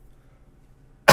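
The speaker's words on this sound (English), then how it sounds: "usually my cough is like a little tickle in my throat" A single loud cough bursts out at the very end after near silence, short and harsh, with no talking around it.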